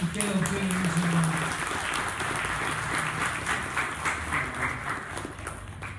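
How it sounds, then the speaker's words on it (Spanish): Audience applause welcoming a speaker onto the stage at a conference, broad sustained clapping that starts loud and eases slightly, with a voice briefly audible at the start. "Un aplauso, por favor, y queda usted en el escenario."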